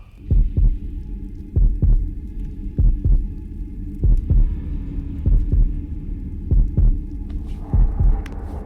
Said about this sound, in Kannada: ಅದು ನನ್ನ ಹಾರ್ಟ್ ಬೀಟಾ?